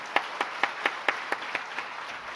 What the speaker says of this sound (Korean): 그 믿음을 주신 우리 시온 찬양대와 또 원미교우 우리 특송팀에게 다시 한번 축복의 박수 올려드립시다.